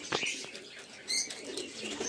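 A pigeon flapping its wings nearby, short bursts of quick wingbeats with a brief fluttering rush in the middle, faint bird calls around it.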